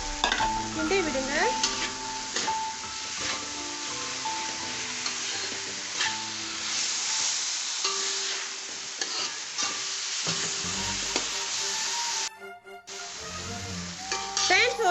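Cucumber fries in a pan with a continuous loud sizzle while a utensil scrapes and stirs it in repeated strokes, with a brief quieter break near the end.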